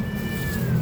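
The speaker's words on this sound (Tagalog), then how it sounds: "Mga nag-iinarte yung mga pusa mo." Hungry cats in a rooftop garden, with one short, clear, drawn-out meow close by over a low background murmur.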